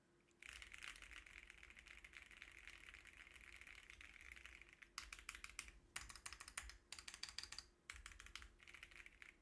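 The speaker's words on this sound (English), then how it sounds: "I hit enter as I'm testing random keys" A mechanical keyboard is tested by striking random keys, giving a dense, continuous clatter of close key presses with brief pauses between rapid bursts.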